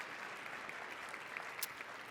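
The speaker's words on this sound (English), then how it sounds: "please give a round of applause to our sponsors" A crowd applauds for event sponsors at an Oregon policy gathering: soft, even, fairly distant clapping that holds steady the whole time.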